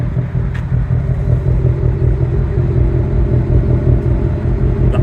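A 2022 Ford Mustang GT Premium's V8 idles close by with a steady, deep low rumble and a slight uneven burble, running alone without voices.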